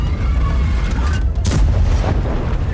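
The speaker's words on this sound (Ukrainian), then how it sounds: "Ось вона артилерія." Artillery shot in World of Tanks on a city map, a single loud deep boom with a rumbling tail, near and alone without talk.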